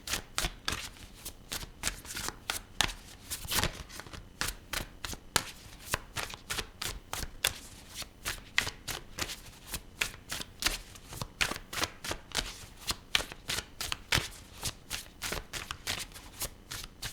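A deck of tarot cards is shuffled over and over at close range, making quiet, rapid riffling bursts in a steady rhythm with no talking.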